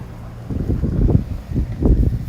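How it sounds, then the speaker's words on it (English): Wind buffeting a microphone out over the sea around 290 metres offshore, a low rumbling gusty roar that swells in uneven surges, loud and close, with no talk. "old wind's blowing me around a bit here"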